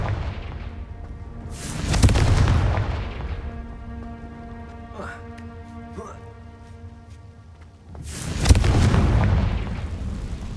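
A Confringo fire spell from Hogwarts Legacy bursts with a loud booming blast, then a second heavy explosion follows a few seconds later, with crackling debris and game sounds between.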